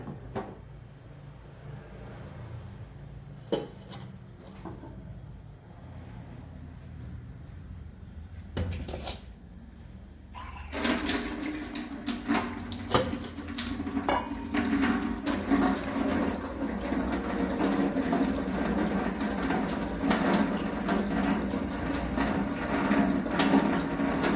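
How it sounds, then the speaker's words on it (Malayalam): Water is poured off a heavy pot of cooked rice: quiet handling and clinks at first, then a steady, louder rush of draining water that keeps splashing until the end. "മാക്സിമം വെള്ളം വാർത്ത് കളയുക."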